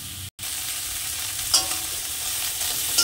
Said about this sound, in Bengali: এবার চিংড়ি মাছটাকে আমি ভেজে নেব